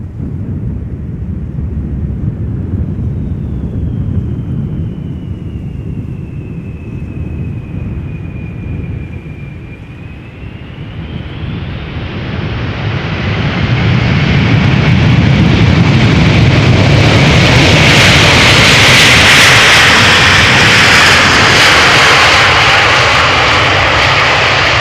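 At Amsterdam Schiphol Airport, a large airplane approaches to land with a loud, continuous engine roar and a whining tone. The roar swells into a heavy, rumbling rush as the aircraft passes close by.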